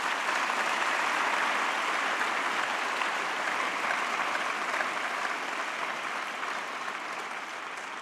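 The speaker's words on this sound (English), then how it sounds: "A very big round of applause." Sustained audience applause fills a festival hall, a dense, even wash of clapping that holds steady for several seconds and slowly tapers off, with no one speaking over it.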